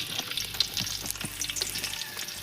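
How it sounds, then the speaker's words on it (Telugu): Onions frying in hot oil in a pan, a close, steady crackling sizzle with small bright pops throughout and no voices. "ఇక నూనె కాగింది కదా, ఉల్లిగడ్డలు వేసుకున్నాం"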